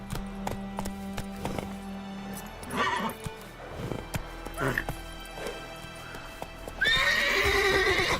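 Roach the horse in The Witcher 3 clip-clops along with hoof thuds, then gives a loud whinny near the end, heard within game audio.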